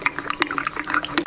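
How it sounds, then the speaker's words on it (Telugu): Water is poured into a pan of mixed-vegetable buttermilk curry (majjiga pulusu), giving close, uneven splashing and sloshing with a few clinks over roughly a second. "మీకు ఏ థిక్నెస్ అయితే ఇష్టమో అట్లా కొద్దిగా వాటర్ని యాడ్ చేసుకుంటూ"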